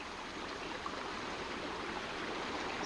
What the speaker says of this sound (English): Creek is a little low this weekend